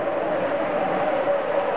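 A model train runs along the track of a home layout, giving a steady, continuous whirring rumble at an even level with no pauses or talk.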